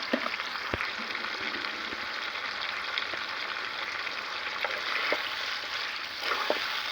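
Chicken pieces and potatoes fry in oil with turmeric and salt, giving a steady, dense sizzle with occasional crackles and pops that lasts throughout without any talking.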